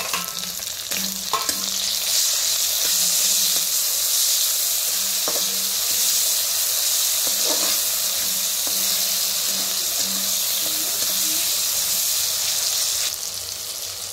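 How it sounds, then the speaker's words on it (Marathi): Chopped onion and tomato fry in a hot pan with a steady, close, loud sizzle that runs the whole time, broken by a few faint scrapes and stirs. "आता कांदा भाजलाय बघा, आता ह्यातच टोमॅटो पण टाकून भाजूया."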